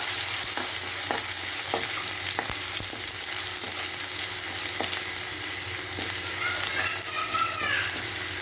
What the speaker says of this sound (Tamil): கடுகு பொறிஞ்சதுக்கப்புறம் கருவேப்பிலை அப்புறம் இஞ்சி பூண்டு கொஞ்சம் பேஸ்ட்டு ஆ போட்டு நல்லா வதக்கலாம்